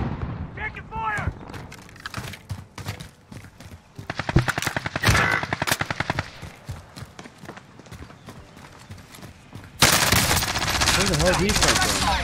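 Rapid gunfire from a PPSh submachine gun and other weapons in the Warzone video game, dense bursts of shots up close with shouting voices over the fighting and a harsher burst toward the end.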